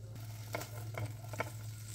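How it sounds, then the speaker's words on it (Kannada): Capsicum pieces going into about a tablespoon of hot oil in a pan, giving a quiet steady sizzle with three soft bursts of crackle at regular intervals, faint and with no talking. "ಸ್ವಲ್ಪ ಬಿಸಿ ಆದಮೇಲೆ ಕ್ಯಾಪ್ಸಿಕಮ್ ಹಾಕ್ಕೊಳ್ತಾ ಇದ್ದೀನಿ"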